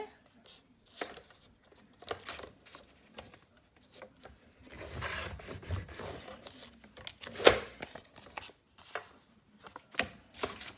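Scissors cutting through paper for collaged Christmas tags, a run of close, crisp snips and rustling handling with louder bursts in the middle, intermittent over about ten seconds.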